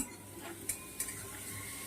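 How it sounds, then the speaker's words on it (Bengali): Chopped onion stirred in a kadai with mustard oil and cumin seeds, a quiet sizzle under soft scraping and two light utensil clinks. "কড়াইয়ে আর একটু সর্ষের তেল দিয়ে জিরে ফোড়ন দিয়ে পেঁয়াজ কুচি দিয়ে অল্প একটু নেড়ে চেড়ে একটু নুন দিলাম"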